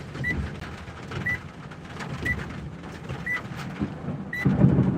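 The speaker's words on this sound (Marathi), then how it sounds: "लातूरमध्ये चांगला पाऊस चालू आहे" Rain falls steadily in Latur, a close, even patter and hiss with low rumbling underneath, while a small electronic beep repeats about once a second throughout.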